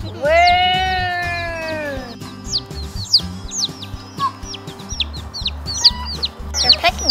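Baby chicks in a backyard, a drawn-out bleat-like cry at the start followed by a steady stream of high, short peeping chirps nearby.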